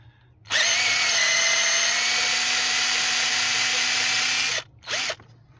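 A power drill whines loudly and steadily for about four seconds while drilling into a GTi cylinder head, stops, then gives one short final burst.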